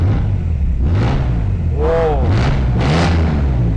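A classic-styled car with modern running gear revs repeatedly up close, its engine note rising and falling in several quick blips over a steady idle, while people talk briefly between revs.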